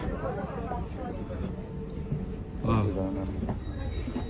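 A train in Rome rolls along with rumbling wheels and a metallic squeal rising midway, while voices talk faintly in the background.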